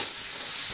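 Chili peppers and straw mushrooms hiss and sizzle steadily in a hot pan while being stirred, a continuous close frying noise with no voices.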